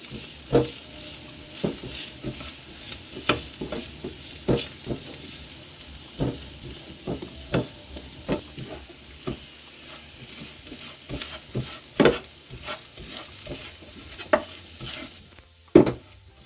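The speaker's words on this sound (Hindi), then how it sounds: "गल गई है हमारी मटर। इसको थोड़ा सा मैश कर लेंगे हम।" A utensil presses and scrapes against a frying pan, mashing cooked peas in a steady series of soft knocks over a faint sizzle, with no one speaking.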